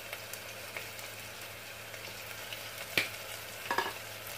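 A spiced meat mixture seasoned with black pepper and ground cinnamon for a sweet meat tajine is stirred in a pan, giving a soft, low sizzle with a couple of sharper spoon scrapes near the end.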